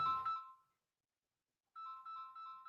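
A Rodecaster Pro plays a phone-call connecting ringtone: a short electronic tone, a pause of silence, then a repeating beeping pattern, clean and close.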